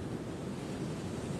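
Sea waves on the southern Santa Catarina coast roll in as a steady, broad wash of surf, heavily mixed with wind buffeting the microphone, with no voices.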